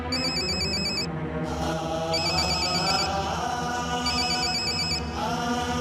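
A telephone rings repeatedly in a domestic setting, bursts of electronic ringing roughly every two seconds over a steady background.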